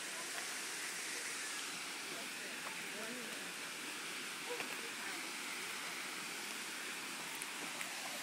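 A waterfall in the woods near Auburn, Alabama pours with a steady, broadband rushing hiss, continuous and even, heard from a short distance as people talk faintly over it.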